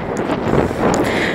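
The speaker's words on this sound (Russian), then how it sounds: "Видите, какой ветер." Steady wind on a beach in Spain rushes across the microphone in a loud, continuous blustery roar with no pauses.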